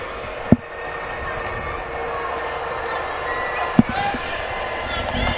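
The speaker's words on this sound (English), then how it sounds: "As the train goes by once again." A train rumbles past a high school softball field during a game, a steady broad roar under a commentator's voice. Two sharp thuds stand out, one near the start and one later.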